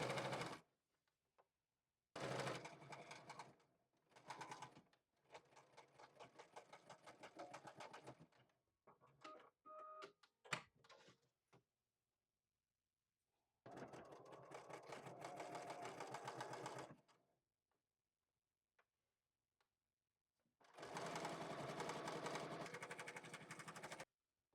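A sewing machine stitching along a folded fabric edge, running in several steady whirring bursts of a few seconds each, separated by pauses and small clicks.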